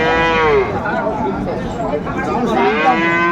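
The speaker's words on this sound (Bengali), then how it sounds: "এই গাভী এই বাছুর আমরা দেখছিলাম বেশ সুন্দর" A cow with her calf lows at a village cattle market, giving one long, loud, close moo that swells again near the end, with faint crowd noise behind.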